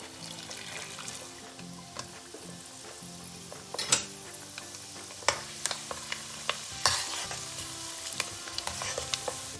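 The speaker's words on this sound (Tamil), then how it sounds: "அடுத்து மசூர் தால் ஃப்ரை பண்ணலாம்" Masoor dal fries in oil for an Indian snack mix, a steady, quiet sizzle over the whole stretch with scattered clinks and scrapes of a spoon against the pan.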